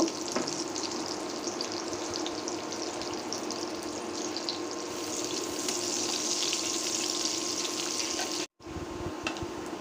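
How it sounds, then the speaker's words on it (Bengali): Cumin and onions fry in soybean oil until golden brown, giving a continuous close sizzle with faint scraping. The sound holds steady for about nine seconds, cuts out briefly, then returns with no voices. "দিয়ে দিচ্ছি পেঁয়াজ গোল্ডেন ব্রাউন করে ভেজে নিব"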